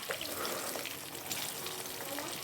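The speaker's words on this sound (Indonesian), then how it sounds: "ini tempe aku gorengnya emang sengaja agak kering" Tempeh fries in a pan for a fairly dry, crisp result, giving a quiet, steady crackling sizzle with no voices.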